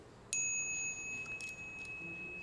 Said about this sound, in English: Bell sound wide resounds throughout 100 million worlds.